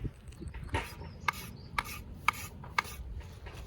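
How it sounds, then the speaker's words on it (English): A farrier's rasp files and bevels a horse's hoof in several steady rubbing strokes, with four sharper scraping accents spaced about half a second apart, close and alone with no talk. "So I'm just going to bevel that, swap my rasp over, slightly bevel that."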